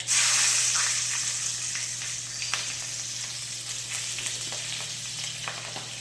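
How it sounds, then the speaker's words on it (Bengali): Black cumin seeds and slit green chillies hit hot oil, the same oil used for frying fish, giving a loud, steady sizzling hiss with small crackles that holds throughout. "তেলের উপরে দিয়ে দিলাম কালো জিরে ফোড়ন আর দিয়ে দিলাম চেরা কাঁচা লঙ্কা।"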